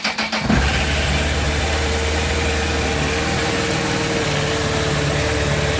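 A 2006-2007 Honda CBR1000RR Fireblade with about 25,000 miles cranks briefly, catches and settles into a loud, steady idle close by, with no talk over it.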